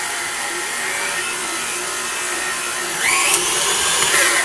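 An electric mixer beats gluten-free puff pastry dough on low speed, giving a steady, close whirring drone that grows a little louder partway through.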